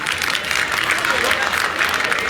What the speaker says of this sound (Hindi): एक बार जो तालियां हो जाएगा ढिल्लो साहब के लिए